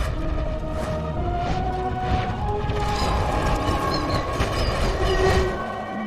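A train passes in the Narnia film Prince Caspian, a sustained rumble of rail wheels with rhythmic clacking and metallic squeals, fairly close and steady throughout, with no talk.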